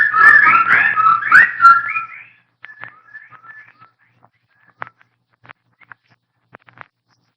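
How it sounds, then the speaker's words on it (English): Birdsong sound effect in a 1950s–60s horror radio drama: a loud burst of rapid whistled chirps for about two seconds, then scattered, fainter twitters and short calls spaced out over a quiet background. "The birds,"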